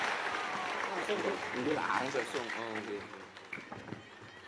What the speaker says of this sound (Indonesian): Tepuk tangan untuk Mas Gibran Raka Buming Raka.